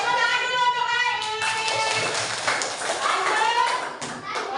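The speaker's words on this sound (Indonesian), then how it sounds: "Tepuk tangan dulu untuk Ain." Second-grade children in a classroom clap for a classmate named Ain, a burst of scattered hand claps mixed with lively young voices talking over them.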